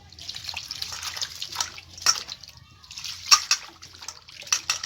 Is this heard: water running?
yes